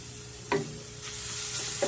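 Grated carrot fries in oil with softened onions, sizzling steadily and close by, while a few quick stirring scrapes land at intervals with no talking.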